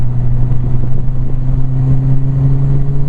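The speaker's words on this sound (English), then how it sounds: "The turbo does sound so much better." A turbocharged Volvo engine with an IPD turbo install revving: a steady, loud drone with a strong low hum and a faint whir on top, holding a constant pitch for a few seconds.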